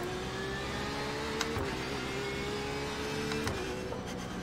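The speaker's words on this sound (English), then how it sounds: "let's listen to the car get through its RPM" A Porsche RSR racing car engine in the iRacing video game whines steadily at Belle Isle, its pitch climbing through the revs with a couple of quick gear shifts, continuous and fairly close.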